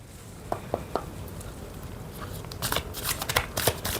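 A deck of oracle cards is shuffled close up: a few soft, separate taps, then a quicker burst of crisp riffling flutters.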